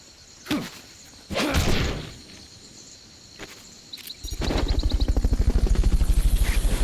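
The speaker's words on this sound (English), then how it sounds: "Fulton recovery helicopter is complete." A Fulton recovery helicopter in Metal Gear Solid: Peace Walker, its rotor entering as a loud, fast, rhythmic chop that builds in the second half, after a few whooshing swishes over a backdrop of insect and cricket chirps.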